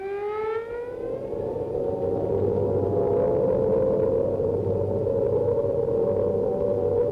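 Air raid siren wailing in wartime Britain in 1940, a loud rising tone that levels into a long sustained drone and carries on alone.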